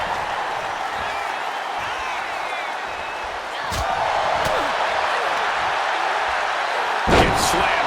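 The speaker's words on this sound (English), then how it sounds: "Gets slammed down." A wrestler is slammed down onto the ring during a women's match at a Raw event, with a few sharp thuds cutting through continuous arena crowd noise and commentary.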